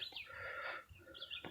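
Hens in a farm coop, a few soft clucks and murmuring calls at a moderate distance, quiet and intermittent over a hushed background.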